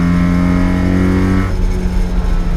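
A 1980 Mitsubishi Minica with a four-speed gearbox drives along in third gear, its small engine droning loudly and steadily from inside the cabin, the tone dropping partway through as the revs ease off, with no talking.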